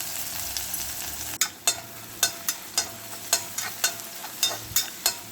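Small onions sizzle steadily in a hot pan while a utensil scrapes and clinks against it in irregular strokes.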